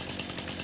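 A chainsaw in the video game Farming Simulator 19 buzzes steadily as it cuts, giving a continuous, close, even motor whine with no talking.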